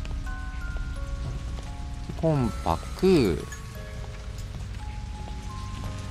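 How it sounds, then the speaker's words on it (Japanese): Steady rainfall from the horror video game Shadow Corridor 2, a constant hiss of rain on surfaces running throughout, with game tones and a brief spoken voice in the middle. "この雨やだな。"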